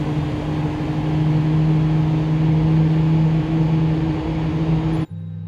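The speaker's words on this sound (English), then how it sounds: "we can start our engines in sequence while we begin with engine number 2." Simulated Airbus A320neo jet engines spool up in a flight simulator game, giving a steady, even whine and hum over a broad background rush that cuts off abruptly near the end.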